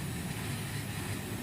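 Vacuum pump evacuating the refrigerant system of a freezer box, a steady continuous low hum and whir, unbroken and moderately loud throughout.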